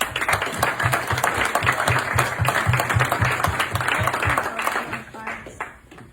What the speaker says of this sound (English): Please join me in a round of applause for Susan